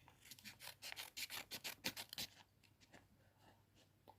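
Close, faint rasping strokes of paper packaging being cut open, about a dozen quick rhythmic cuts in a row before tapering into softer scattered rustles.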